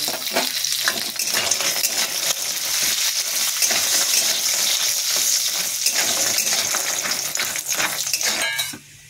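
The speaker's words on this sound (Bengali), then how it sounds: "লাল লাল করে ভেজে নিয়েছি বড়ি" Pumpkin lentil badi fry in oil in a pan, a loud, dense sizzle lasting nearly the whole stretch, with a spatula stirring and clinking against the metal until it stops abruptly near the end.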